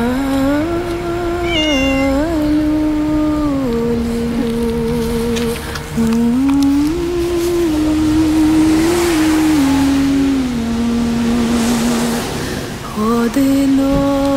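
Kittens out in the snow meow almost nonstop, a string of long, wavering, plaintive cries close by, with the pitch rising and falling and only brief pauses between calls.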